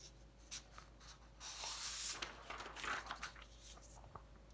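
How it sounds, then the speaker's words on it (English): Pencil scratching on a sheet of paper during a math lesson, soft close strokes and brief scribbles that swell in the middle and then trail off into short ticks. "let's get a new piece of paper and just write it along the bottom."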